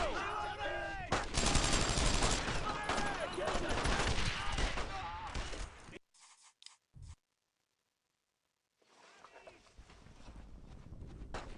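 Heavy gunfire in the World War II shooter Brothers in Arms: Road to Hill 30: loud, dense bursts of rifle and machine-gun fire mixed with shouting for about six seconds, then a few isolated shots, a silent gap, and renewed fighting.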